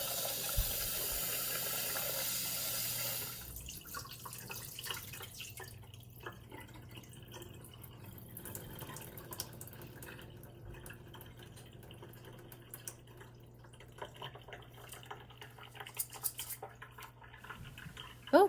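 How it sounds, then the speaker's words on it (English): Rice being rinsed under a running kitchen tap, with a steady gush of water at first, then softer trickling, dripping and sloshing as the grains are swirled in the pot and the water drains. "I usually wash my rice at least twice."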